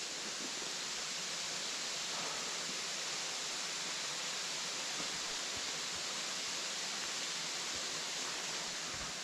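Water from a waterfall and a stream at Routin Lynn rushes as a steady, broad hiss, quiet and continuous throughout, with no voices.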